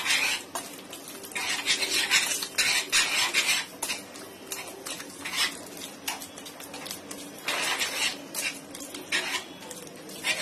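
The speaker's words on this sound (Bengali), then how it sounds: "এখন আবার ভালো করে মিশিয়ে নিতে হবে।" A spoon beats chocolate cake batter in a bowl, making quick repeated scraping and tapping strokes in bursts, close and fairly loud, with no talking.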